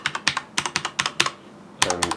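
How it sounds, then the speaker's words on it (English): Quick, close taps on the number keys of a Mad Catz S.T.R.I.K.E. 2 RGB gaming keyboard, a run of crisp clicks, a brief pause, then a few more presses, with no voices. "and then number keys"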